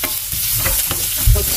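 Onion and garlic fry in olive oil, a loud close sizzle with a stirring scrape and a short knock near the end, and no talk over it.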